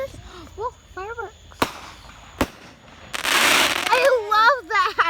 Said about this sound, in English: Whoa, fireworks.